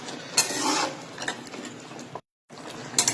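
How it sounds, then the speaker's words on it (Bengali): Mutton being stirred and sautéed in a pan over a high flame, with continuous clattering and scraping of a spoon against the pan under a light sizzle, close up, broken by a brief silent gap. "দিয়ে ফ্লেমটা আবার বাড়িয়ে দিয়ে এটাকে কষাতে থাকবো।"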